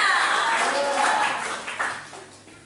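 A church congregation claps in praise to God during a Sunday service, a broad wash of many hands that starts loud and slowly fades over under three seconds, with a faint voice mixed in.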